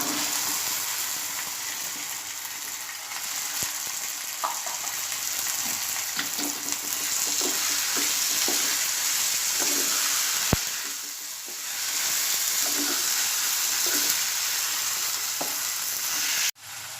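Cluster beans and tomato fry together in oil, a steady, close sizzle with frequent spatula scrapes and taps, and a sharp knock at the very end.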